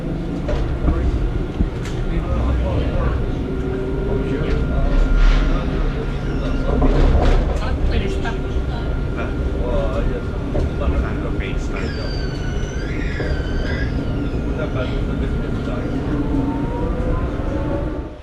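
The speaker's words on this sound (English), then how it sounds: "So that's the tram." A tram rolls through the old town of Bordeaux, France: a loud, close, rumbling rail pass with metallic squeals and clatter over steady street noise, with voices faintly underneath.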